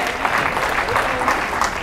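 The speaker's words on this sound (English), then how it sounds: "So y'all want to clap on this." A church congregation applauds in a steady, continuous wash of clapping during a sermon, with voices mixed into the crowd noise throughout.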